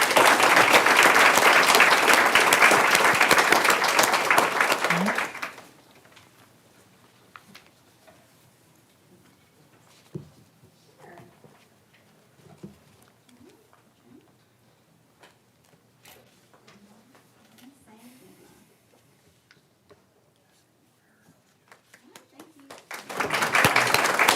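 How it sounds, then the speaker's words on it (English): Audience applause fills a school board meeting hall, loud and sustained for about five seconds, then the room falls quiet with faint shuffling before clapping swells again at the end. "Let's give them another round of applause."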